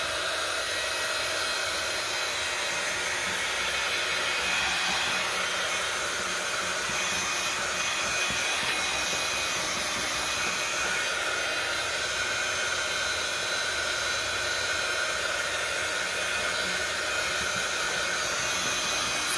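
A hair dryer blows steadily and loudly for the whole stretch, drying paper on a cereal box junk journal cover with an even, unbroken whoosh and no talk.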